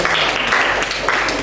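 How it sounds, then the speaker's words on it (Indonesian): A classroom group claps together during a history lesson, a brisk burst of close, fairly loud hand claps lasting just over a second without speech. "tepuk tangan dulu buat Mas Hamid."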